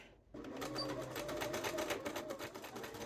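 A sewing machine runs a 2.5 mm straight stitch along a French seam on a duster garment: after a brief silence, a close, steady mechanical whir starts and continues evenly.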